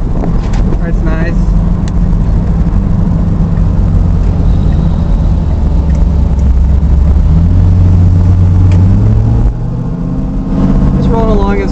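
A car engine drones steadily while cruising in second gear on an Arizona road, loud and continuous low rumble with a slight pitch rise before easing off near the end; a voice talks over it throughout.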